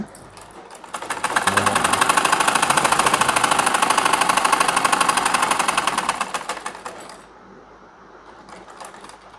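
A sewing machine runs a continuous burst of rapid, even stitching on trouser pajama fabric, loud and close, winding up, holding a fast steady rhythm for several seconds, then slowing to a stop followed by a faint lighter whir.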